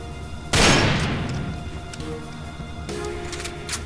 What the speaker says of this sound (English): the PTRS has a brand spanking new firing sound